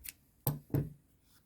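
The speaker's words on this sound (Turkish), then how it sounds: "Bir zincir çekip burada ipimi kesiyorum." Scissors snip crochet yarn close by. There are two crisp, distinct cuts about a third of a second apart, preceded by a faint rustle.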